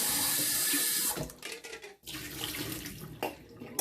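A tap runs cold water into a pot of boiled eggs with a steady rushing splash that briefly cuts out, then resumes, its tone changing as the pot fills.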